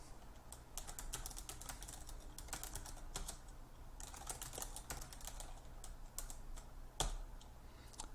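Quiet keystrokes on a computer keyboard come in quick irregular bursts with brief gaps, near but soft, over low background hum and with no voices.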